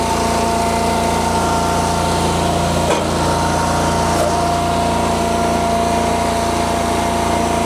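A log splitter's small engine runs loud and close at a steady drone with a constant pitch, briefly catching once or twice, with no speech over it.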